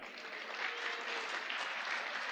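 A church congregation applauding and acclaiming the Lord: sustained, even clapping from many hands, steady and moderately distant throughout, with faint voices beneath.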